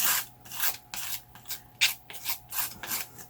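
A stick rubbed back and forth across watercolor paper to blend and smooth paint, giving a series of short, dry scratchy strokes in an uneven rhythm, close up and fairly soft, with no voices.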